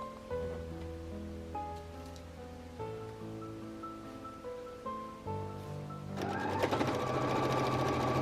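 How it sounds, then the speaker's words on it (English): A sewing machine runs in close, steady stitching bursts while sewing rows of pin tucks on a white skirt, its rhythmic hum rising to a louder, busier whir near the end, with no voices. "when I'm at my sewing machine I could just sew both rows of tucks"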